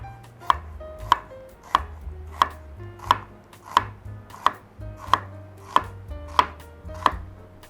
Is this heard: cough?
no